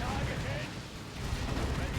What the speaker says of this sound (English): a really nice barrage on that little blob of Warrior Brood models and Venom Brood models